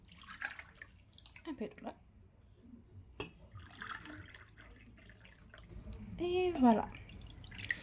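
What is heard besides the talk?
water poured into glasses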